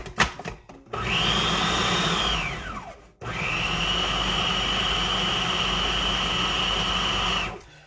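A blender purees spinach for spinach and cheese stuffed chicken in two loud whirring runs, the first ramping down and a brief pause before a second longer steady run, close and without talking.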